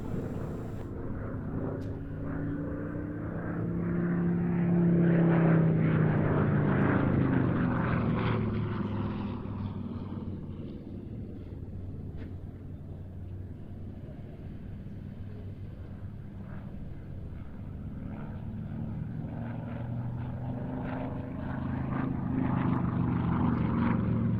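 A SAAB B 17 propeller aircraft drones overhead at the Duxford air show, its engine swelling louder as it passes, fading, then rising again; a steady, throaty hum with no voices.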